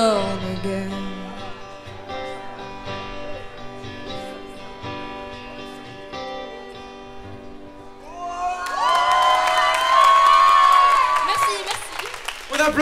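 At a 2023 school talent day, a sung solo performance ends and the crowd breaks into clapping, cheering and whoops. The applause swells loudly over the final few seconds.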